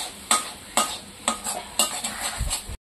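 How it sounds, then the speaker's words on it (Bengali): A utensil stirs mankochu (giant taro) paste frying in oil in a pan. About six rhythmic scraping strokes sound over a light sizzle, close and fairly loud. "এবার নাড়িয়ে দিচ্ছি।"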